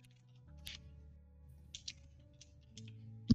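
Computer keyboard keys clack in scattered bursts of a few strokes each, fairly close over a faint steady hum, with a single sharp louder click at the end.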